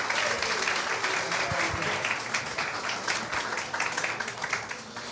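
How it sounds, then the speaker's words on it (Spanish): Audience applause fills a live Halloween-style horror show in Peru, dense steady clapping with scattered cheers sustained throughout, loud and close, with some voices underneath. "Amigo, un fuerte aplauso,"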